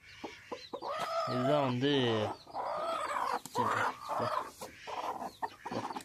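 A guinea fowl clucks and cackles close by in a series of throaty calls, with a person speaking briefly alongside it.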